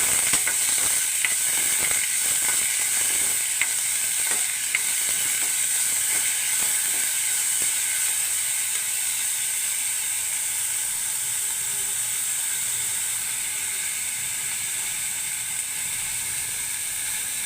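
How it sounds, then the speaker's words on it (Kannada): Chopped onions frying in a pan after peanuts for tomato chitranna, a steady loud sizzle and hiss with a few faint clinks early on, no talk. "ಈರುಳ್ಳಿ ಫ್ರೈ ಮಾಡಬೇಕಿದೆ."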